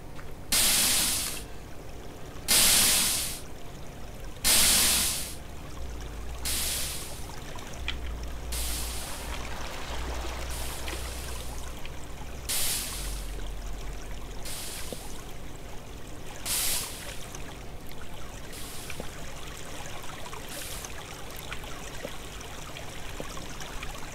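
Water flows in the Minetest game, heard as a steady running trickle under a series of sharp, bright bursts that come every couple of seconds and fade toward the end.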